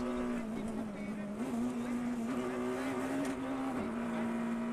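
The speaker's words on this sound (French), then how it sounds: "Et écoutez bien la caméra embarquée. Régime moteur." A rally car engine drones steadily from an onboard camera at the 2014 Ypres Rally, its pitch rising and dipping slightly with throttle, loud and constant with road noise beneath.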